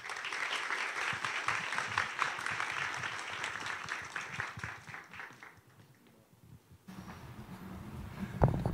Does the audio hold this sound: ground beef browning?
no